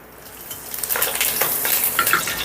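Green chilies and curry leaves drop into hot oil with fried peanuts, sizzling and crackling loudly up close as a utensil stirs and scrapes the pan in short bursts.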